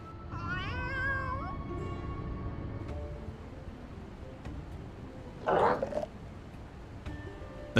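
Cats meow in a Final Fantasy XIV scene, several harmonic, rising mews early on over a game soundscape, followed by a brief louder noisy burst near the end.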